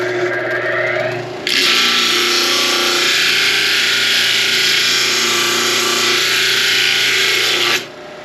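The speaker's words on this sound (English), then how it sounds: "we're using a 12-inch flat disc with a 36 grit sanding disc on it" A coarse 12-inch disc sander with a 36 grit disc grinds loudly and steadily against material for several seconds, starting abruptly after a motor hum and cutting off just as suddenly.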